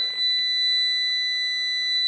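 A Parkside stud finder gives a steady, high electronic tone on detecting a stud, a clear, sustained beep in a quiet room.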